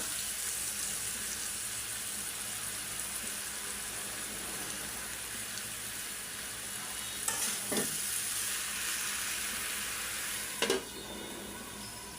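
Amra (hog plum) pickle simmers in a covered pan over low heat, giving a steady soft bubbling hiss throughout with a couple of brief clinks midway, no voices.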